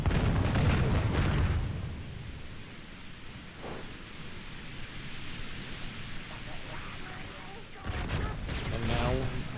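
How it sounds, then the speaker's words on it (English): Handgunners in the Medieval 2 video game with the Warhammer mod fire volleys: dense crackling gunfire in bursts, loud at the start and end with a quieter rumbling battle wash between, and faint voices underneath. "Ah, the sight of handgunners firing into blobs"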